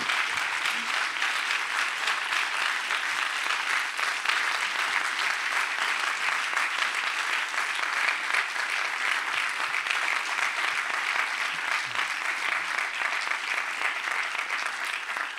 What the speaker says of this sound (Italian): un grandissimo applauso a lei